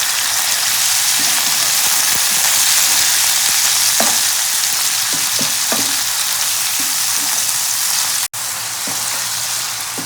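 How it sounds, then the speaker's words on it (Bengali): Shrimp frying in a pan with turmeric powder and salt, a loud, steady sizzle throughout with scattered soft stirring clicks and a brief dropout near the end. "এক মিনিট মতন চিংড়ি মাছটা ভেজে নিলাম"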